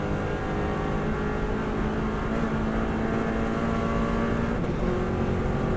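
Subaru WRX STI rally car running flat out in fifth gear on the Isle of Man course, a loud, steady engine drone at sustained high speed with road and wind roar, no voices.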